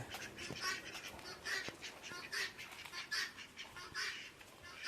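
Ducks quack and honk repeatedly in a noisy chorus, fairly distant over steady outdoor background noise, with no clear talking.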